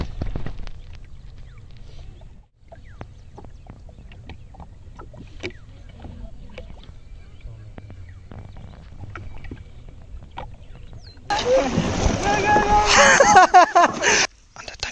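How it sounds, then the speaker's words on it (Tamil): Water in Chitwan National Park, Nepal, splashes in a loud, close burst near the end, after a long stretch of low outdoor rumble with scattered faint knocks. "தண்ணி இடிக்கிற சத்தம் கேட்குது"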